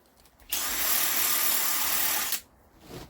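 A Vonhaus rotary tool fitted with an extension and a sanding bit runs for about two seconds, a loud, steady high-pitched whine that starts abruptly and cuts off cleanly, with quieter room sound on either side.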